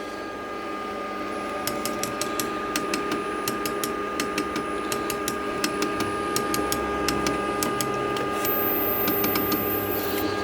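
A Glowforge Pro laser cutter runs with a steady fan and exhaust hum, while rapid mechanical ticks and clicks from the moving head come in irregular bursts above it.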